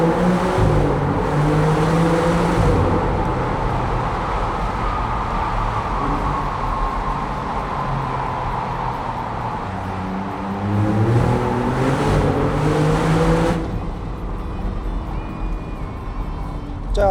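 A Maserati MC20 Folgore engine drones and revs in a tunnel, its sustained tone rising and falling with echoing resonance, loud and close, with a voice talking over parts of it.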